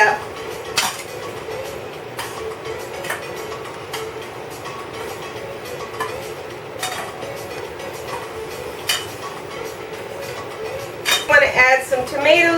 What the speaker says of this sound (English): Get a tong, mix it up.